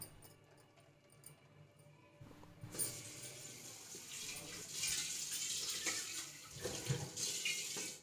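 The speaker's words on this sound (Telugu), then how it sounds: "నేను మళ్ళా చల్లనీళ్ళతో మళ్ళీ శుభ్రం చేసుకుంటున్నాను" Boiled cauliflower is rinsed under cold running tap water, the faucet bursting on after a quiet start and splashing steadily at close range with shifting gurgles as the florets are washed.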